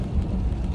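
Steady rain on an early rainy morning, a dense, even wash of noise that stays fairly loud throughout the short stretch, with low rumble mixed in and no voices.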